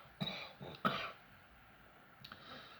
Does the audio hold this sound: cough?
yes